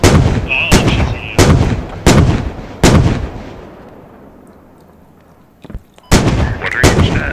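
Warrior armored vehicle cannon firing in the Squad video game: a series of sharp, booming single shots at a steady rhythm, loud and close, with a quiet gap before a final few rounds.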